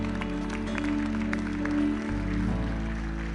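Church congregation clapping for the Lord after communion, a dense and fairly close wash of applause lasting a few seconds, with organ or keyboard tones held underneath.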